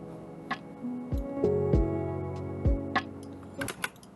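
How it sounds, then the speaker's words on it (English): A lofi drum loop plays hi-hats, kicks and snares, with sharp ticking hits and deep thumping kicks over a sustained tonal pad, rhythmic and clean, with no voices. "we'll throw in the drum loop. So I mainly just use hi-hats and"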